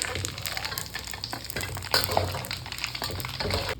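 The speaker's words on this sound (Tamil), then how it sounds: "நெத்திலி பொடியை நல்லா மொறுன்னு பொரிக்கணும்." Anchovies crackle and sizzle steadily in hot oil, a dense continuous deep-frying hiss with faint popping throughout.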